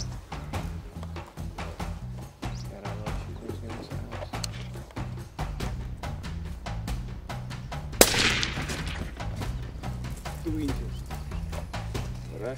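A single loud rifle shot rings out while a rifle is sighted in on a Namibian hunting safari. The sharp crack stands out over ongoing conversation and background noise.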